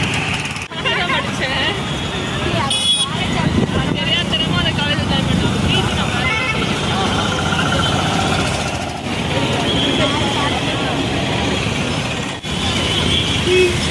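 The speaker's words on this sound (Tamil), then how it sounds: "இது எந்நேரமும் டிராஃபிக் இருக்குது. 24 ஹவர்ஸும் பிஸியாக இருக்கக்கூடிய ஏரியா" Continuous heavy road traffic on the Trichy-Karur national highway bypass at Melachintamani, Trichy, a dense rumble of engines and passing vehicles with speech running over it throughout.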